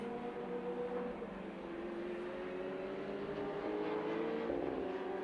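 Lotus race cars lap Rockingham circuit, a steady, fairly distant engine drone with a slowly rising pitch as a car holds speed toward the chicane, no voices over it.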